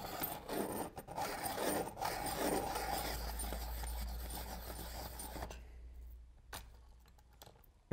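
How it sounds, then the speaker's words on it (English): Close, dry rasping and grinding of a Creative Mark professional pencil sharpener working a thick 8–12mm pencil, continuous for about five seconds, then faint scattered ticks in near silence. "Beautiful, beautiful sharpening."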